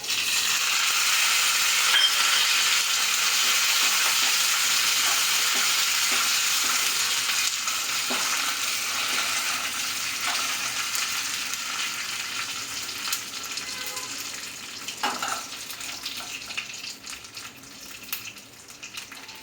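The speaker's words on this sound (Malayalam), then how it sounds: "കടുകെല്ലാം പൊട്ടിക്കഴിഞ്ഞു ഇനി അതിലേക്ക് മുളകും വേപ്പിലും വെക്കും" Green chillies and curry leaves dropped into oil with popping mustard seeds for a tomato curry, giving a loud, dense crackling sizzle that holds steady close up, with stirring scrapes and clatter growing toward the end.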